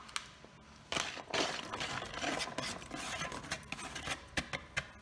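Onion dropped into a pot of hot olive and vegetable oil for an artichoke tajine, giving a crackling, spattering sizzle with scattered clinks of utensils, fairly close and steady across the stretch with no talk.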